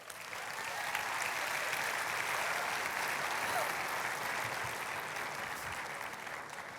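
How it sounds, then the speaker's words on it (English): Sustained audience applause for guest Michael Sng at a TEDx interview event in 2017, a dense steady clatter of many hands that holds at an even level for several seconds before easing slightly. "Big round of applause, Michael Sng."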